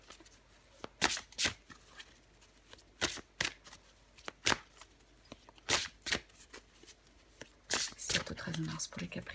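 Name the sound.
shuffling tarot cards before drawing one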